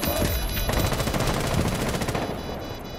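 Rapid automatic gunfire fills a Rainbow Six Siege round, a dense, loud, continuous burst of shots running the full length, easing slightly toward the end.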